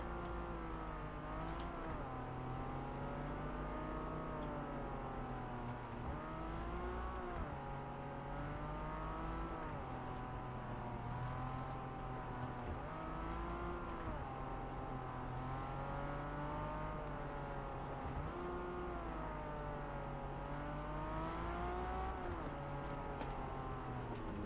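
A Lancia car drives in a racing video game, its engine a steady droning hum with rising and falling revs through the whole stretch, no voices over it.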